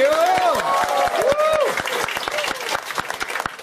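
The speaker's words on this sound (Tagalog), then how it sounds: "Malakas na palakpak for Miss Raquel Falsis" Loud, dense audience applause with sharp claps throughout, greeting a woman at a school event, while an excited voice with pitch-gliding shouts rings over the start.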